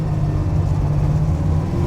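Steady, loud, low rumble of a 1968 Camaro's 454 big block V8 idling up close with a choppy cam, a continuous lumpy drone with no talk over it.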